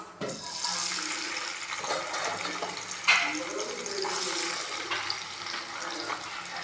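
Onions go into hot oil in a pan for chicken macaroni, giving a steady broad sizzle with a sharp crackling burst as they hit the oil, close and continuous throughout.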